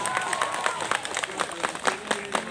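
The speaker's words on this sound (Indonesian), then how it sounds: "Tepuk tangan dulu semua." An audience at a school religious lecture claps, an uneven spatter of hands with a few sharp individual claps standing out, mixed with crowd murmur and some voices.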